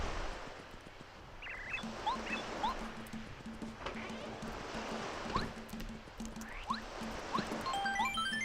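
Crashing surf in the video game Paper Mario, a soft, steady wash of waves with gurgling swells, joined by scattered chirps and tones from the game, low in level and continuous.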